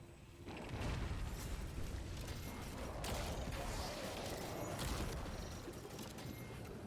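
A drill machine grinds through rock in a video game, a dense, continuous mechanical roar with creaking and rumbling bursts. It stays loud and steady for several seconds with no talking.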